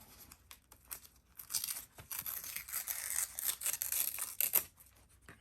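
Paper being torn by hand while assembling a grungy entomology-themed junk journal made from a file folder, a series of quiet ripping and crinkling bursts that build through the middle and end, with no talking.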